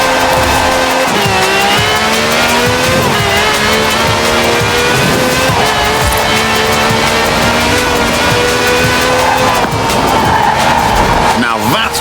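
A V12 car with over 750 horsepower in Forza Horizon 4 roars loudly and skids, its tires squealing in long sweeps as the engine pitch rises and falls through gear changes.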